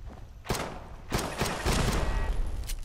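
Rapid pistol gunfire in the video game Fallout London, several sharp broadband shots in quick bursts, loud and close over a busy background of game noise.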